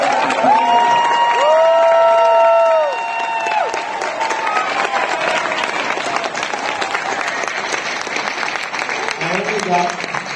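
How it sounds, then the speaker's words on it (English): Loud applause and cheering from a comic con audience at George Takei's panel, Indiana Comic Con 2024, sustained throughout with whoops, and a voice speaking over the crowd early on. "And please, huge round of applause."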